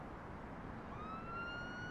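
A police-style siren rising in pitch, faint and distant, emerging over a steady background hum partway through.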